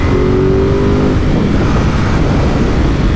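A Ducati Supersport 950 S motorcycle engine revs loudly and close, a steady throaty drone with rising pitch early on, continuous for the whole stretch.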